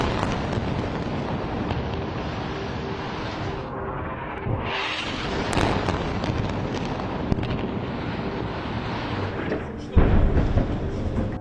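Rockets and missiles are fired and explode over Israel during the night Hamas attack of 7 October 2023, a dense roar of rushing launches and blasts with a sharp loud burst near the end.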